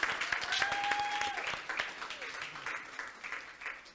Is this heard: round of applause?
yes